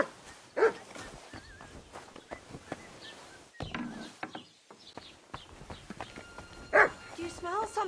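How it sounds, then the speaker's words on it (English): A dog in the video game Kingdom Come: Deliverance II barks a few scattered times among voices, clopping hooves and background ambience. "All that barking"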